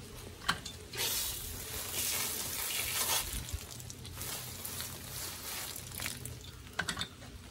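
Water running and splashing over freshly cleaned wild hog meat, a close, steady gush with wet handling sounds and a few sharper splashes, no talk.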